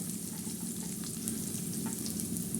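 Chopped onion and green chilies fry in hot oil in a pan, a steady, fine sizzle with faint crackles, moderately quiet and continuous, with no voices.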